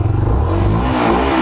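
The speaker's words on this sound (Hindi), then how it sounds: "देख लो भाई ये है इसका पेट्रोल पे एग्जॉस्ट नोट।" A Bajaj Freedom 125 motorcycle idles on petrol, its exhaust giving a loud, steady, close-up thrumming beat that stays even throughout with no talk.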